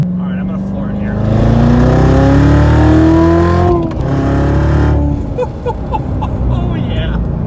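A Chevrolet Corvette Z06 engine is floored at full throttle, revving loudly with rising pitch through the gears, easing briefly at a shift before pulling hard again, then settling; close-up cabin perspective.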